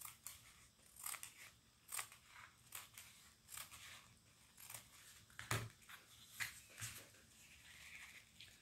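Scissors cutting through a folded paper napkin, a quiet, close series of crisp snips repeating every half second or so.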